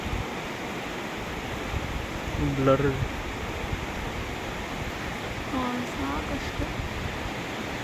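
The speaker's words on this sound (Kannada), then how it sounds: "ನೀರಿನ ಫ್ಲೋ ಮಾತ್ರ ಏನು ಮಸ್ತಾಗೈತೆ ನೋಡ್ರಿ" The Kali river flows past forested banks, a broad continuous rush of water filling the scene, while someone speaks briefly over it.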